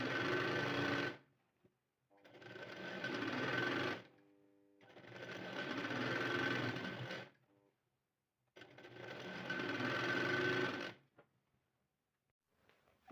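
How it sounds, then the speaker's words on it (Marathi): A sewing machine stitches lace onto the folded edge of a shawl being made into a gudi cloth, running in three long steady bursts separated by brief pauses, close and alone. "तर पूर्ण आता याला मी लेस लावून घेते."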